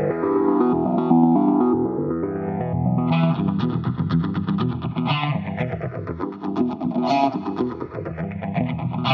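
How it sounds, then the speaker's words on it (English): A bright FM synth preset plays a fast, continuous arpeggio of single notes with swirling phased and chorused movement, loud and steady throughout. "you can play single notes and it arpeggiates using this pitch block here"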